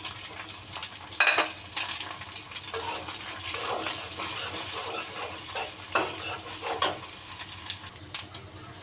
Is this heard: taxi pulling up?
no